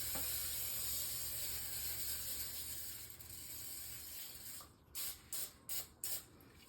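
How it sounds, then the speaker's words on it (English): A few short hissing bursts of aerosol cooking spray onto a parchment-lined baking pan, close and crisp, after a stretch of steady background noise. "I'm getting ready to spray the parchment paper and the sides of the pan with this"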